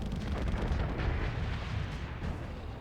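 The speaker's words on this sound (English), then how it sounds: "the macro cannons on these are okay" Macro cannons in the space combat game Starsector fire in a dense, continuous barrage, with heavy, rumbling booms and bursts overlapping into a loud roar that runs for the whole stretch, with no voices.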